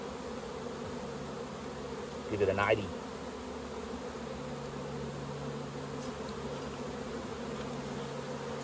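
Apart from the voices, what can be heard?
honey bees buzzing around an open beehive frame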